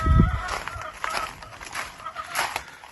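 Hens cluck and call close by in a farmyard, with bursts of fowl vocalizing and a low thump at the start, over steady outdoor background noise.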